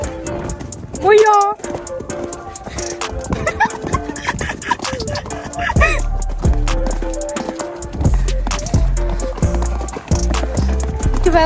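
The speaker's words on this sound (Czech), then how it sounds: "to je tak zlatý kůň dneska" Horse hooves clip-clopping steadily during a ride, a fast rhythmic beat of footfalls close by, with people talking over it and a voice calling out.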